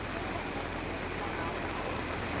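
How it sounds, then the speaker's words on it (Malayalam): Heavy monsoon rain in Kerala pours down in a dense, steady hiss of drops on surfaces, constant and fairly close, with no voices. "നല്ല മഴ കേട്ടോ. ഒരു രക്ഷയില്ലാത്ത മഴ."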